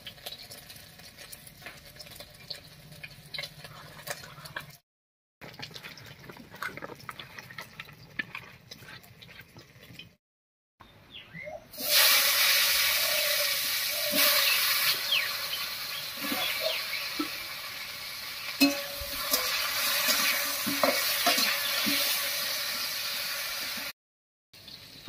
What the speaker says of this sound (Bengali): মাছ ভাজার তেলের মধ্যে পটলটা ভেজে নেব,